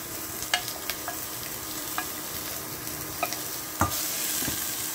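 Pork for humba Bisaya fries in oil in a pan with a constant close sizzle, broken by scattered clinks and scrapes of a utensil stirring, and no one speaking.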